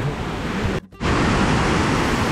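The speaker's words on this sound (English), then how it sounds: "Here comes Mushko to the Ramboda Waterfalls." Ramboda waterfall in Sri Lanka roars as a steady, loud broadband rush of falling water, briefly cut off for a split second before resuming at full strength.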